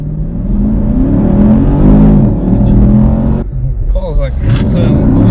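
An Audi A3 accelerating hard with spinning tires losing traction, a loud rising engine roar and rumble that drops off, followed by a squealing whine, with people talking over it.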